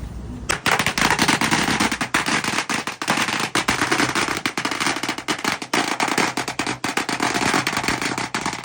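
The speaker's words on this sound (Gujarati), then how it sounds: "અને હવે મારે એથી ફટાકડો ફોડવાનો છે" A long, dense string of firecrackers bursting in rapid, crackling succession at a Buddhist temple in Thailand, loud and close, continuing without pause for several seconds.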